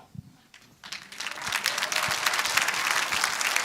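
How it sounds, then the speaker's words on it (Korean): A crowd at a party appointment ceremony breaks into applause after a quiet pause, the clapping building quickly into a dense, sustained roar from many hands, with no speech over it. "자, 큰 박수를 보내시기 바랍니다."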